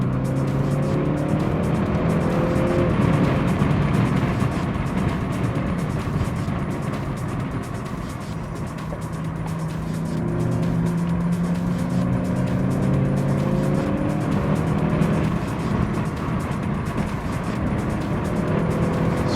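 Car lapping the wet Zandvoort Formula 1 circuit in the Netherlands, its engine droning steadily throughout with rising and falling revs through corners and onto the straight, loud and continuous from inside the car.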